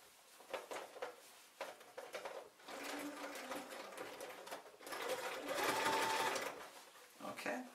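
A sewing machine stitches along the hem of jeans through bulky denim in short stop-start runs that build into a longer continuous whir, close by.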